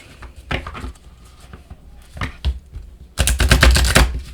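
A deck of cards handled and shuffled a different way: scattered soft taps and flicks, then a loud dense riffling burst near the end, close by with no voices.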